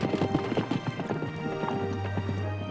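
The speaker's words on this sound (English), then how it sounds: "Giddy up! Come on, Cactus. Let's go, Tumble!" Horses trot off in an audio drama, their hooves clip-clopping in a quick, close rhythm. A steady low hum sits beneath the hoofbeats, which have a whinny-like texture.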